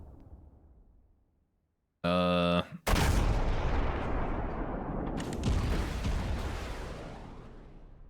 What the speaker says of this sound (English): He's just shooting at it.